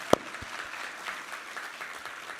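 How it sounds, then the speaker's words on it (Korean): A church service congregation claps in a steady round of applause, fairly soft and even, with one sharp louder clap near the start. "우리 하나님께 감사와 영광의 박수 올려드리겠습니다."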